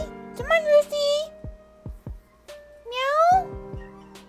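Ruthie, a pet cat in The Sims 3, gives two clear rising meows, each followed by soft footstep-like taps, with quiet game ambience between.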